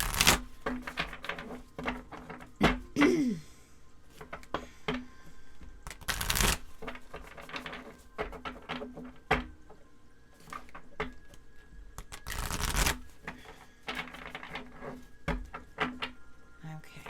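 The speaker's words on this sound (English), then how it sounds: "One more shuffle," A deck of oracle cards is shuffled in several bursts, quick riffling flutters separated by quiet pauses and light handling noises, close up.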